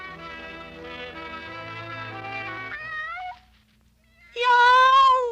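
A cartoon cat character in a Portuguese-dubbed Woody Woodpecker cartoon is voiced by a person imitating meows: a long, wavering, sung meow, then a short pause, then a second, louder meow.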